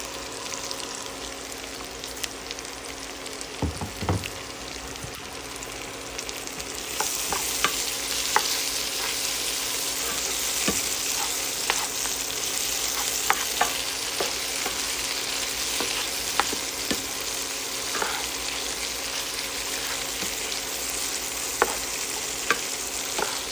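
Zucchini and mushrooms frying in a pan, a steady loud sizzle with occasional stirring scrapes and crackles, continuous throughout with no talking.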